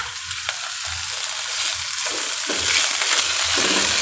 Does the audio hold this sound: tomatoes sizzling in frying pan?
yes